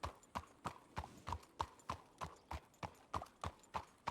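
Horse hooves clip-clop in a steady, even rhythm in the WildRP western video game, roughly three hoofbeats per second, crisp and close with no talking.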